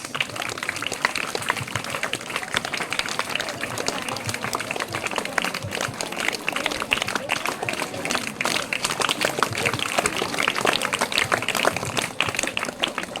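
Sustained round of applause from a school audience at an academic award ceremony as a seventh-standard boys' group comes on stage, dense crackling claps continuing steadily for over ten seconds.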